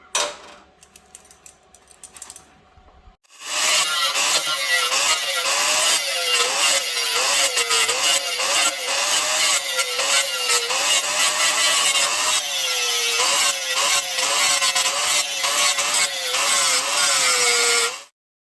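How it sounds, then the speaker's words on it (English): An angle grinder grinding welded-over holes flat on a Toyota Tacoma truck frame, loud and close, starting after a brief quiet lead-in and running continuously with a wavering whine for about fifteen seconds. "I can grind them flat."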